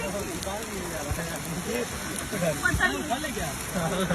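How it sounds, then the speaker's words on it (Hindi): Large hailstones pelt down in a heavy rainstorm, a dense steady patter and clatter that runs throughout while people talk excitedly over it. "ये कैसी बारिश है, ये कैसे ओले गिर रहे हैं।"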